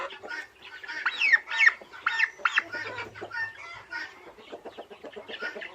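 Domestic turkeys in a home flock give rapid, close, bubbling calls in quick repeated bursts, rising and falling over a few seconds.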